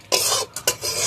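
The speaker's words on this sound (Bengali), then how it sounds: "আমি দিয়ে দেবো ময়দা। ময়দাটা ঘিয়েতে ভালোভাবে লাল লাল করে ভেজে নেবো।" Flour being fried and stirred in hot ghee in a pan for a milk-and-flour sandesh sweet, heard as close, loud bursts of gritty scraping and sizzling in three pulses with brief pauses between, no talk.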